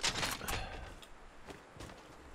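Gunfire in the battle royale game Fortnite, a quick burst of shots up front that falls back to a few scattered, fainter reports.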